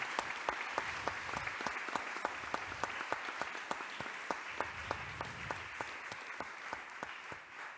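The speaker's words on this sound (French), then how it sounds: "Donc on peut les applaudir." Audience applauding at the close of an evening humanitarian talk on water and climate suffering, a sustained wash of clapping with a few sharp, evenly spaced claps standing out, fairly distant and steady throughout.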